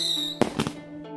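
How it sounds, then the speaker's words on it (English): Fireworks go off in two quick, sharp bursts close together, partly over a soft sustained musical tone. "creating the first fireworks."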